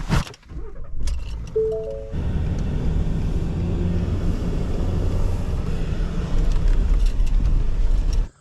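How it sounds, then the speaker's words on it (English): A car drives around a rural hunting property in Ohio, its engine and road rumble steady and close after a brief opening of clicks and a short electronic chime. "I just drove around the property to a little parking lot he's got on the other side"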